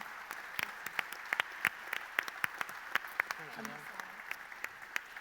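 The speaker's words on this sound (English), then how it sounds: "And keep those applause going for our panel tonight, Jacob, Shanna, Dayne and Dan." Sparse applause from a small audience after a panel event on addiction, with scattered individual claps spaced unevenly at a distance and no voices heard.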